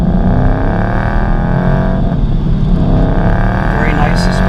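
A 2014 Ford Mustang GT Saleen SA30 V8 rumbles steadily on the move, its deep exhaust drone continuous and loud throughout, with faint higher noise near the end.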